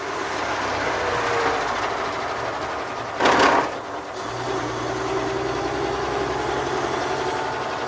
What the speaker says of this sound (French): C'est quand même un joli 6 cylindres.